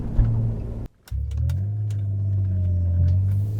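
Alfa Romeo 164 V6 Cloverleaf engine and exhaust pulling under acceleration, a steady, loud, boomy drone after a brief drop to near silence, with a low rumble held close and constant and no talk over it.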